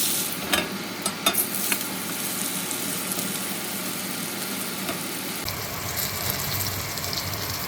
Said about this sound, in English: I'm going to turn the temperature back up because the cold steak's going to crush the temperature of the pan.